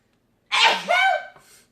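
A single loud, close sneeze after silence, with a sharp burst followed by a brief voiced tail.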